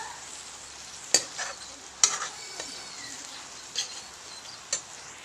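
An egg is stirred and fried in a little leftover oil in a pan after fiddlehead ferns were fried, giving a soft steady sizzle punctuated by a few sharp spatula clicks.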